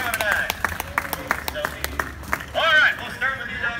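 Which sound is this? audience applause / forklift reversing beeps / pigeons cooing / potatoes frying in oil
audience applause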